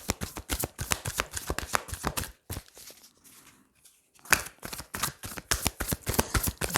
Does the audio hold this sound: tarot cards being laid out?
yes